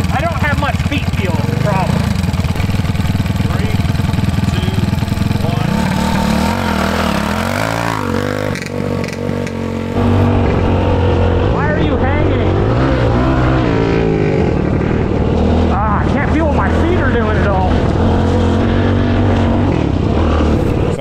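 Honda ST90 motorcycle ridden on a hot lap, its small engine droning steadily loud and close, rising and falling with throttle changes, with people talking over it.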